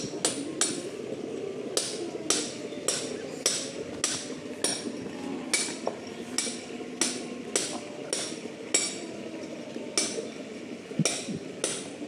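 A spoon repeatedly scrapes and knocks against a pot while bhuna khichuri of rice and lentils is stirred, giving a steady run of sharp metallic clinks over a low background rumble.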